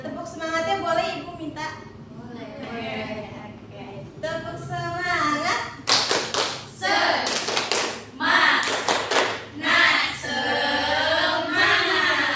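A classroom group claps together in a patterned rhythm, with bursts of sharp hand claps alternating with elementary school children's voices chanting and talking in Indonesian.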